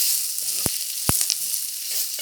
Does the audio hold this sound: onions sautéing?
yes